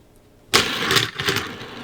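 A Hot Wheels track set launcher fires a toy car with a sudden sharp snap after a quiet moment, followed by a rattling, whirring clatter of the car speeding along plastic track, close and loud.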